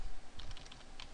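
Fingers type on a computer keyboard while renaming a file, a quick close run of light key clicks over a low room hum.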